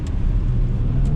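A 2020 BMW X6 40i under throttle in sport mode with its ZF 8-speed automatic, a steady low engine drone heard from inside the cabin as it pulls, with a faint rising tone and no talking.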